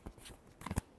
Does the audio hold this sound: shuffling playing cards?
yes